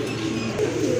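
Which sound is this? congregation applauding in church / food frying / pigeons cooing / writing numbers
pigeons cooing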